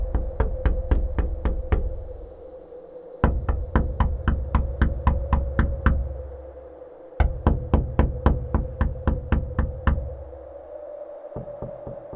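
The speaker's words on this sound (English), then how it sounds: "you can still hear a soft, deliberate knock" Soft, deliberate knocking comes in quick runs of about eight to ten even raps, each burst separated by short pauses, close and clear with a faint hum beneath.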